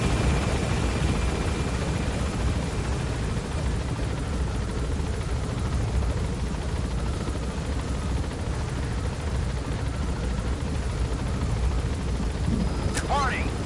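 A helicopter gaining altitude in a Metal Gear video game, with a loud continuous rotor and engine roar throughout and a short sharp effect near the end.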